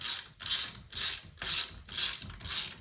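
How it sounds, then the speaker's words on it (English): A ratchet wrench loosens a seat bolt inside a VK Commodore, its pawl clicking in six quick, even bursts of close, loud cranking with brief pauses between strokes. "Undo the two bolts."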